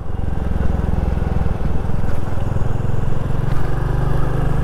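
A Royal Enfield Classic 350 motorcycle engine that has not yet been broken in runs close and loud at idle, with a steady low thumping single-cylinder pulse and a mechanical clatter, one brief dip in rhythm partway through.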